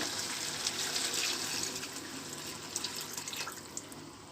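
Stock (yakhni) pours into a pot of arvi gosht with a steady splashing, gushing flow of liquid, close and fairly loud, lasting a few seconds without speech.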